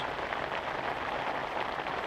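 A heavy rain downpour on a frozen lake during ice fishing gives a steady, dense hiss of falling water, even and continuous at moderate loudness.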